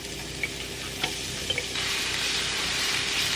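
Chopped onion hitting a hot pan of browned meat for red beans and rice, giving a steady broadband sizzle that swells louder partway through, with a few faint clinks from utensils.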